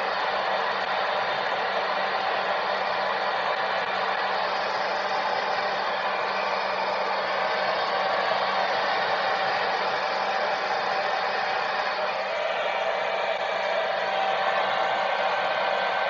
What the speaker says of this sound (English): and just start blow drying it.